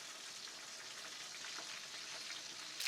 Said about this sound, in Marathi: हे काय मस्त फ्राय झालंय